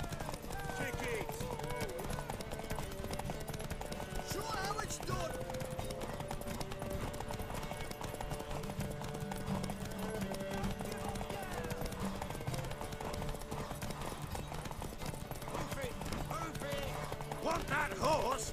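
A horse gallops in The Witcher 3 video game, with steady hoof clip-clop and occasional snorts running throughout under game music and some spoken dialogue.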